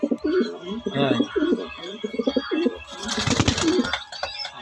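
Parent racing pigeons coo softly and repeatedly nearby, their low throaty calls mixed with someone speaking over them.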